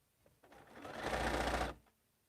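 A sewing machine stitching quilt blocks in one short, quiet burst, speeding up to a steady whirring run and then stopping.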